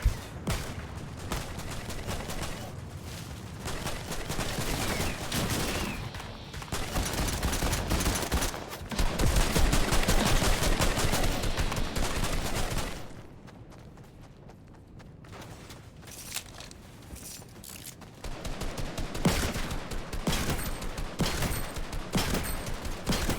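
Fortnite video game gunfire, dense rapid volleys of shots crackling throughout, loud and continuous for most of the stretch, easing briefly midway before picking up again.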